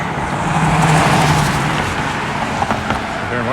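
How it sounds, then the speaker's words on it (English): Cars passing at a street crosswalk at College Avenue and Broadway in Regina on a spring day, a steady loud roar of traffic sweeping by close, with a couple of sharper knocks near the end. "watch the cars go by"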